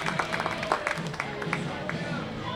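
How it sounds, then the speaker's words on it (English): Baseball crowd at a Laredo Lemurs vs Joplin Blasters game groaning after a batter is hit in the head by a pitch, a steady murmur of many voices with scattered claps, fairly loud throughout. "You can hear the crowd kind of groaning there."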